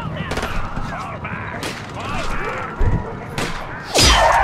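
Bursts of gunfire from bullets in the video game Blind Drive, several sharp cracks and a louder volley near the end over a busy, rumbling backdrop.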